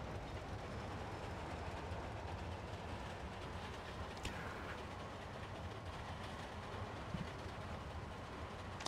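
A Schienenbus railbus travels at about 80 km/h, giving a steady, continuous rumble with rhythmic clickety-clack from the rails throughout, and no voices.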